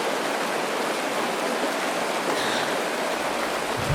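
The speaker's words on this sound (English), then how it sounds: "It is raining!" Steady, dense rain pours down without a break in the video game Honkai: Star Rail, a constant hiss of water falling with no voices or other sounds.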